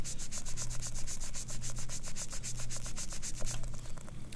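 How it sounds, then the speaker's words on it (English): Steady back-and-forth rubbing strokes polishing a guitar fret, brisk and rhythmic, close up, with a low constant hum underneath throughout. "I finished up with the sanding and polishing of the first fret"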